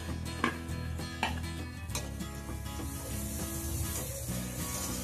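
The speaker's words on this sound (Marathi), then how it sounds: "त्यामध्ये आपण बेसन भाजून घेऊ" Gram flour roasts in oil with tomato-onion paste in a pan, a continuous close sizzle with a few soft scraping strokes of stirring early on.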